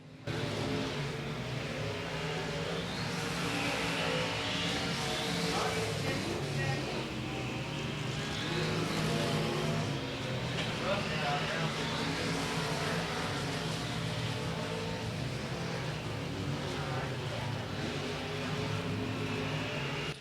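Race cars roaring around the oval at Golden Triangle Raceway Park, a steady, loud engine drone that swells and fades as the pack circles late in the race, with a race announcer's voice running over it throughout.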